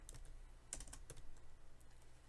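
Soft, quick keystrokes tap on a computer keyboard in a quiet room, a short irregular run of typing with no voices.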